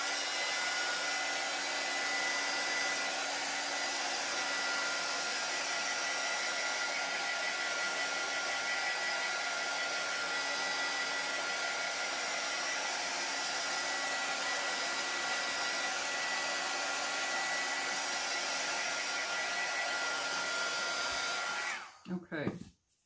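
A hair dryer blows steadily to dry paint on a tea towel, a loud continuous whooshing hum that holds for about twenty seconds and then cuts off with a brief rattle.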